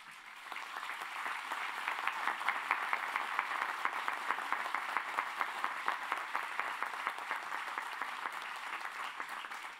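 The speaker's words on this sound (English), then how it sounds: "give a big round of applause for your families and friends" Graduates at a university commencement ceremony give a sustained, even round of applause, a broad crowd wash with rhythmic claps heard from a distance, continuing steadily throughout.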